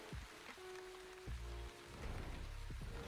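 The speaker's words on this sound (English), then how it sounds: "I didn't realize we were going through rain. Oh, it's moving right over us." Rain falls steadily in the village-building video game The Wandering Village, a constant soft hiss of droplets with a few low thuds and tones underneath.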